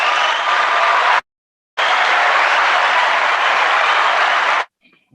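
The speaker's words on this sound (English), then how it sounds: "let's give a round of applause for Jay for joining us this evening" A studio audience applauds a guest joining the evening show, two loud bursts of dense clapping separated by a brief silence, the second burst lasting about three seconds before cutting off.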